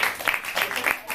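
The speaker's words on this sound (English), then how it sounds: "round of applause for Tom" An audience at a forum theatre performance gives a short burst of applause for a performer, a close, busy patter of claps that lasts about a second.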